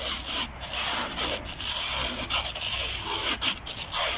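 Casting wrap pulled tight around a horse's hoof wall and shoe, a steady close rubbing and rasping with brief crinkling catches, continuous and alone with no talk.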